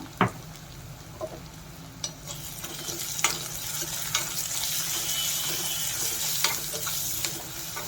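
Minced mutton sizzles and frys steadily in a pan for a mutton keema curry, with scattered scraping stir strokes and clinks over a continuous hiss that grows fuller toward the end.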